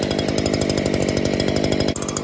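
A Stihl SH 56C shredder vac runs loud and close, its engine a fast pulsing drone while it sucks up creeping fig debris from a house wall, with a short dip near the end and no talk.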